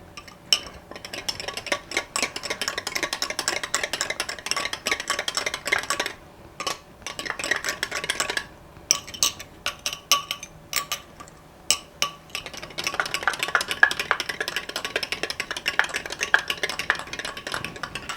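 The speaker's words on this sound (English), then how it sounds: "I'm gonna mix this completely" Oats and egg batter for an oats egg omelette, seasoned with salt and black pepper, whisked briskly in a bowl: rapid, close clinking and tapping of a utensil against the dish, with brief pauses between bursts and no voices.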